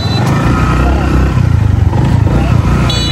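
A motorcycle rides along a muddy route in the Tanguar Haor area, its engine a low pulsing rumble close by, mixed with wind and voice noise.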